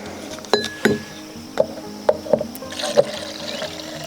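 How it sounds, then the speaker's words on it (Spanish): Water is poured into a homemade mosquito and fly repellent mixture in a container, with several sharp clinks and knocks followed by a closer splashing pour near the end. "Completamos con agua."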